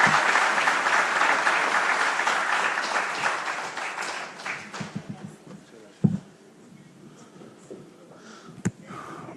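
A conference audience claps loudly and densely for a few seconds, then the applause thins to scattered claps and fades into room quiet with a few knocks.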